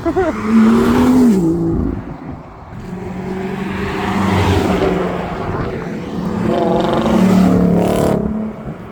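A Lamborghini SVJ supercar engine roars and revs nearby, rising and falling in pitch over several seconds, with faint voices underneath.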